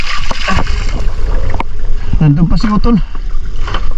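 A small boat out on the sea during a spearfishing trip in the Philippines, with wind and water rushing steadily around it while several people talk over the noise.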